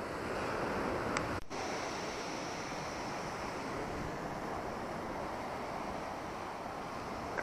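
Sea waves wash ashore at Massandra beach in Yalta, Crimea, a steady hissing surf with wind rushing across the microphone, continuous and fairly soft.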